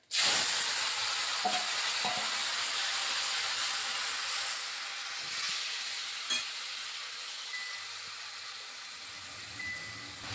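Bathua greens being stirred and fried in a pan with asafoetida, dry chili and nigella seeds, a soft continuous hiss and sizzle with a few faint knocks of the stirring spoon, fairly quiet and without talk.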